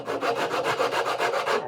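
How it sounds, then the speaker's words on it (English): A flat sanding board with 80 grit sandpaper works the wood of a steel-string guitar neck in about nine steady, even back-and-forth strokes, close and clear with no talking. "come in with just a flat board, just a sanding board. This has 80 grit sandpaper on it."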